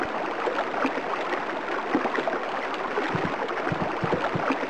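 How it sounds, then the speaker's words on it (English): Water sound effects from a SpongeBob video game, a steady dense splashing and rushing wash like a stream, loud and continuous throughout with no speech. "I think the water sound effects are stacking on top of each other."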